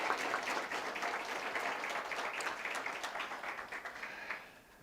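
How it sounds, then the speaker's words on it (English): Audience applause for presenters at a Linux and open-source tech conference session room, dense steady clapping from a seated crowd that fades near the end. "If you can give them all a round of applause."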